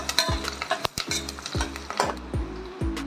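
Curry leaves and green chilies sautéed in a pan, heard as rhythmic scraping stirs about every half second over a light sizzle, close and moderately quiet.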